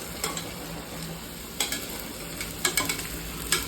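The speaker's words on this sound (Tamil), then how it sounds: "கொஞ்ச நேரம் கிண்டிகிட்டே இருங்க, அடி பிடிக்காத மாதிரி பார்த்துக்கோங்க." Food being stirred in a frying pan, with a steady sizzle underneath and occasional louder scrapes and taps of the spoon against the pan, close up, no talking.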